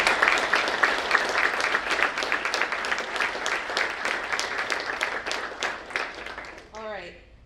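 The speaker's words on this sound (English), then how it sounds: "Can we get a round of applause for our panel?" A conference audience applauds a panel, dense clapping close by that gradually thins and fades, with a voice starting to speak at the very end.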